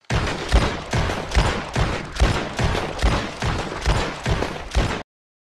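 A Schofield revolver in Red Dead Redemption 2 fires rapidly, about a dozen loud, evenly spaced shots in steady rhythm over five seconds, then silence, with no voices.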